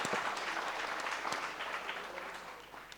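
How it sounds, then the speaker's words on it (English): A quiz audience claps for a qualifying team, with dense, steady applause that sounds fairly close and fades slightly toward the end. "I think they deserve a big round of applause."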